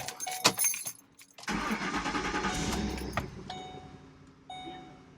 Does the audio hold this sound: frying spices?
no